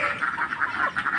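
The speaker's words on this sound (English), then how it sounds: "I have also ducks, many ducks." Many ducks on a farm in Cianjur, West Java, Indonesia quack in a rapid, continuous chatter, moderately close, with no talking.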